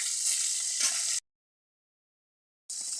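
Chanda fish sizzle gently in a frying pan with a faint, airy hiss. The sound cuts out completely for about a second and a half, then returns. No one talks.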